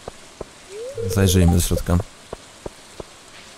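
Steady rain falls in the farming game Stardew Valley, with soft game patter running throughout and a few sharp tick sounds, while a person talks over it.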